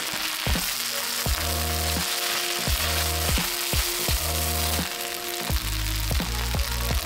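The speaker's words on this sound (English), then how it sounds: "add our eggs and continue to stir" Eggs fry in a hot pan on lowered heat, a continuous loud sizzle with a steady rhythm of stirring strokes scraping the pan, and no voices.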